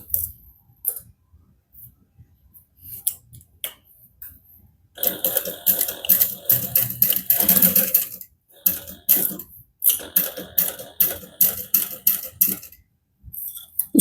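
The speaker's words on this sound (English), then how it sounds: "Be careful as you sew over that seam to make sure that it stays lined up." A home sewing machine runs in bursts while stitching over a thick seam on a harmonica-style hobo bag, fast close mechanical chatter with short pauses between runs.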